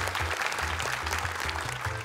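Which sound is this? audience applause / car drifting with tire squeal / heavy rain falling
audience applause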